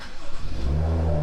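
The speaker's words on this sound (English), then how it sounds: "So now I'm gonna turn my car on and let's see how this thing smells." A BMW F3X-series car engine starting, a low rumble that rises into a steady mid-pitched idle hum with sustained tonal drone, fairly loud and close, no talking.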